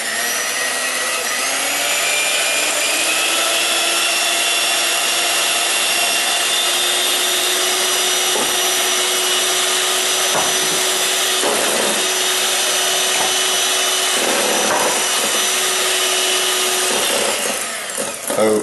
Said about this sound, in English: with the mixer running, add my vanilla right to the egg yolk mixture